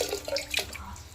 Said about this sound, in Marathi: बघा पाणी टाकले.